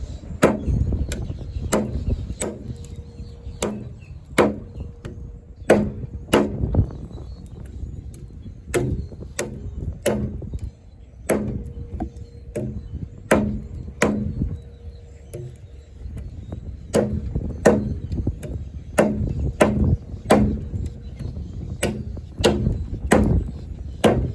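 Repeated sharp chopping strikes of an AUS10 steel combat knife biting into a hardwood knot, irregular blows spaced about a second apart, close and punchy over quiet background.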